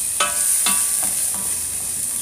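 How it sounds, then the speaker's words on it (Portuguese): Banana slices fry in hot pork lard for a banana and bacon farofa, a soft steady sizzle with a few scraping utensil strokes against the pan, close and without voices. "Aqui na gordura quente, gente, eu vou dar uma fritada nessa banana."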